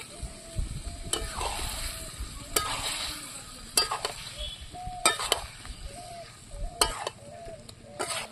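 Fried bottle gourd tossed with spices in a hot pan, a continuous sizzle broken by repeated scraping strokes of a spatula against the metal and occasional clinks, close and fairly loud, no talking.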